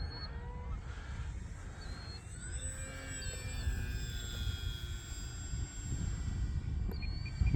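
A Flex Innovations QQ Yak 55 RC airplane buzzes through a roll, its thin electric motor whine sweeping in pitch at a distance over constant low wind noise, with faint talk.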